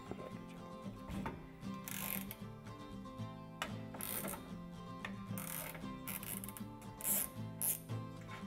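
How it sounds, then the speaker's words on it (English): A ratchet loosens the M8 bolt on a steering coupling flange, giving quiet, close, rhythmic clicking in short repeated bursts with brief pauses, in a workshop setting without talking. "Remove the M8 bolt that holds the coupling flange to the steering box input"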